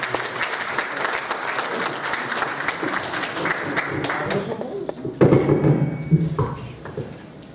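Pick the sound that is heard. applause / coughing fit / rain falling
applause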